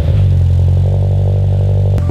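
A 2022 Subaru BRZ four-cylinder with an Invidia N2 catback exhaust idles on its first cold start, a loud, steady, deep droning rumble that holds evenly throughout before a brief blip near the end.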